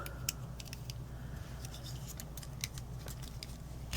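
Small snipping cuts of paper scissors trimming a paper pumpkin Halloween craft, a few quiet crisp clicks spaced irregularly over a low background hum.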